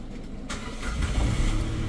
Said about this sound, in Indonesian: kita coba starter aja